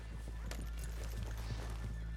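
Horses in the western video game Red Dead Redemption 2 give a faint whinny and a few soft hoof clops, heard quietly over a steady low background hum.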